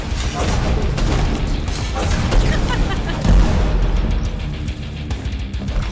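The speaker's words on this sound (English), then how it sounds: "I don't want to get caught in an explosion like that." Explosions and gunfire boom continuously in the Nightmare Reaper shooter game, a dense, loud roar of blasts and crashes that keeps going throughout.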